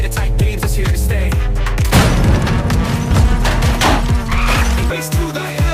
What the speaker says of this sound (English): cars explode, police fly out, explosions galore